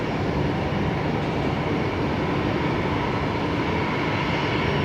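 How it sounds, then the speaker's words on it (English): Airbus A350-900 airliner taking off at Brisbane Airport, bound for Changi at night: a steady, loud, broadband jet engine roar holding constant throughout with no voices. "The A350-900 heading off back home to Changi tonight."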